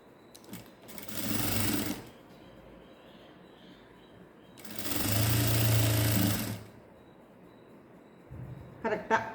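A sewing machine stitching the elastic waistband of ladies' pants runs in two bursts of steady whirring, each about two seconds long, with quiet pauses between them and a short start at the end.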